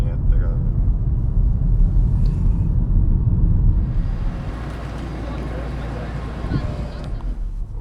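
A CityBee rental car driving to the airport, with a steady low road rumble and interior drone that eases slightly midway, continuous and close.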